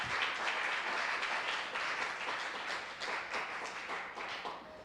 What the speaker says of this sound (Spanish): Demos un aplauso a esa palabra.